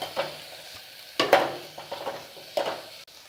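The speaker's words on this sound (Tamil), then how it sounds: "கேரட், ஒரு சின்ன உருளைக்கிழங்கு, எல்லாத்தையும் சேர்த்தாச்சு. இது கொஞ்சம் நல்லா வதங்கட்டும்." Beans, carrot and a small potato sauté in a pan, a soft sizzle under several sharp scrapes and clinks of a spoon stirring against the metal, with no voices.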